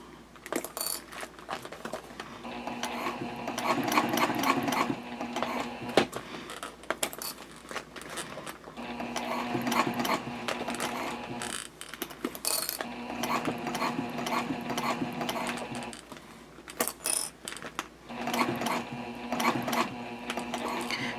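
Sewing machine stitching a jelly vinyl pouch, running in steady mechanical bursts with gear-like ratcheting, pausing briefly between runs of stitching, close and moderately loud with no talk.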